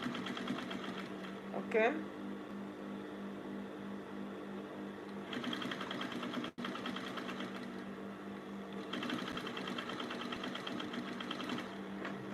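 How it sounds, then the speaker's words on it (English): A sewing machine stitches bias binding onto a button-up shirt, running in steady bursts separated by brief pauses, close and clear while a voice speaks over it. "Take the tiniest part of the edge of your, what do you call it, of your bias, and then stitch it down."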